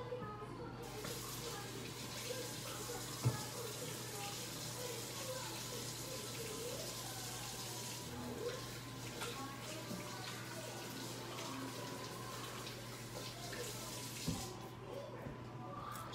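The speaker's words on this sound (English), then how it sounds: "I'm gonna wash my hands again." A kitchen tap runs steadily while hands are washed beneath it, a constant moderate stream of water with a low hum underneath and a few small clunks.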